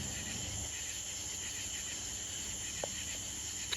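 A golden cicada gives a steady, continuous high-pitched buzzing drone that stays close and even throughout, with a couple of faint clicks near the end.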